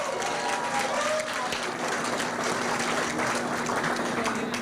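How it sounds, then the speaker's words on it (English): Steady applause from a crowd, dense clapping that continues evenly throughout without pause. "Let's give him a round of applause because he was dear."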